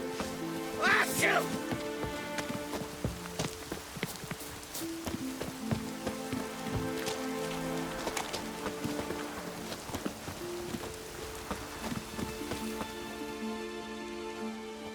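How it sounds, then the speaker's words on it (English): Rain falling in The Witcher 3: Wild Hunt on PS5, a steady patter of drops under game music, with hooves clopping and footsteps now and then through the scene. "Maybe we needed a spot of rain."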